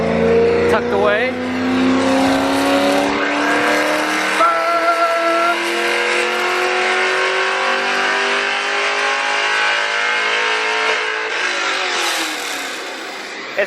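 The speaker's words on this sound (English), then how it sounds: "It's the fans making all that noise." Loud, steady whir of cooling fans running on a race car, droning continuously from near with a rising tonal whine, while people talk over it.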